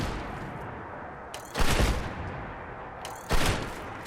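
Two heavy, booming blasts from Gauss weapon fire and explosions in a video game, separated by a couple of seconds, each bursting out of a low, hissing background.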